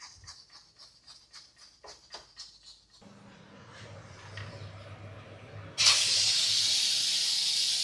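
A pressure cooker on a just-switched-off stove bursts into a loud, continuous steam hiss about halfway through, after a quieter stretch of clattering and low rumble beforehand.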